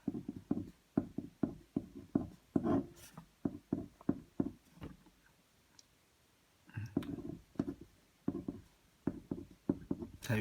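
Chalk or a marker taps and scrapes across a board during a lecture, making quick clusters of sharp close clicks broken by a short quiet pause, then starting again.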